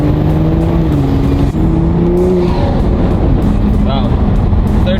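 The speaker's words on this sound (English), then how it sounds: "How to get some intake noises." Toyota Supra with an Armaspeed intake, engine held at a loud steady drone then easing off, with brief whistling and fluttering intake sounds near the end, close and continuous.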